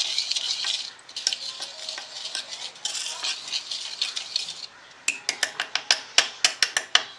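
Butter and powdered sugar being whisked in a bowl for a Valentine's Day cake, first a continuous scraping swirl, then a brief pause and a run of quicker rhythmic strokes tapping against the bowl.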